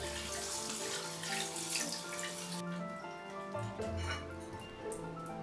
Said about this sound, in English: You rinse the quinoa under water for 3 minutes.